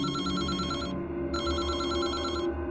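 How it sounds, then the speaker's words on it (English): An old-style telephone bell rings in a video game, a loud electric trill in repeated bursts with a brief gap between rings, heard alone with no talk over it. "The phone again."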